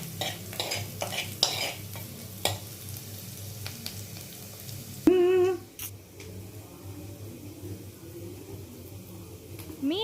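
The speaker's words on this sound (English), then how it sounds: "add finely chopped garlic to the butter and saute well for a minute or until it turns golden brown" Finely chopped garlic sautés in melted ghee and butter, a sizzling hiss under brisk spoon stirring and scraping against the pan, with a brief tonal squeak midway and no speech.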